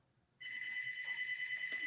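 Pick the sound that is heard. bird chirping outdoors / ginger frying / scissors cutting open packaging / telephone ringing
telephone ringing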